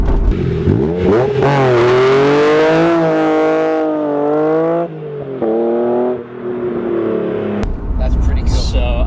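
An early Honda NSX, chassis 59, revs its engine hard, a loud rising and falling whine with sustained high-rpm pulls and a brief drop between them, close by, with a voice briefly at the end.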